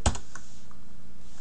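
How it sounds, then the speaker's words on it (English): A single sharp computer-keyboard keystroke clacks up close as a password is typed, followed by a couple of faint lighter taps and quiet room tone. "typing in the password."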